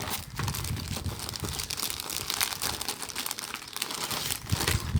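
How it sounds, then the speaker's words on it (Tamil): Plastic cover packaging from an Infinity PRIMUS 1270 12-inch subwoofer being handled, giving a steady, close, dense crinkling and rustling throughout with no speech. "ஒரு கவர் பேக்கிங் கொடுத்துருக்காங்க."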